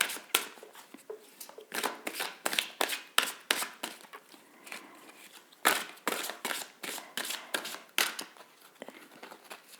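Oracle cards are shuffled by hand in a quiet room, a steady run of crisp riffling and flicking bursts repeating at a regular pace, close and clear with no talking over them.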